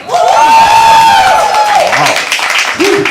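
Open mic poetry audience at The Habitat cheering, hooting and clapping wildly as if greeting a performer, loud and close, with a drawn-out whooping voice and scattered shouts.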